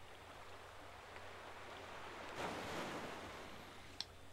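Ocean waves in the Mario Party 4 video game, a soft steady wash of surf that swells briefly near the middle, with a small click near the end.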